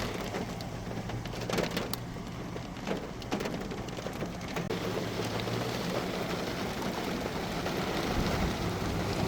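Rain pours steadily during a thunderstorm, a dense continuous hiss with patters on a nearby surface, while a low rumble swells and fades underneath.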